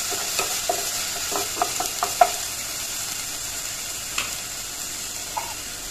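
Ginger garlic paste stirred with a small spoon in a frying pan while cooking a fish curry with sponge gourd; faint sizzling with a scatter of light scraping taps early on, then quieter frying.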